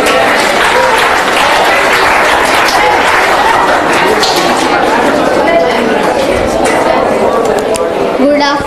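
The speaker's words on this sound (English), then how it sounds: "Let's have a big round of applause for Newton Vishwakarma." A school audience applauds a student speaker at a presentation and spelling bee event, loud continuous clapping and cheering filling the clip with some chatter mixed in.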